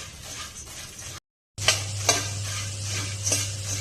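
Puffed rice (mamra) being dry-roasted and mixed in a pan without oil, close scraping and rustling stirs with a few crisp clinks, broken by a brief silent gap, then resuming over a low steady hum.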